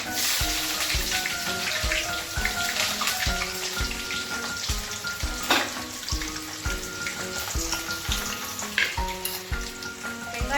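Onions frying in hot oil with spluttered mustard, cumin and fenugreek seeds for a brinjal tamarind curry, giving a loud, continuous crackling sizzle with occasional stirring clatter and no voices.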